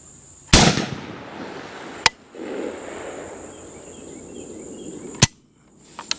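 Gunshots ring out from a Zastava ZPAP85 rifle outdoors, four loud, sharp cracks spaced a second or more apart, each followed by a short decaying echo, with a faint insect-like hiss in the background.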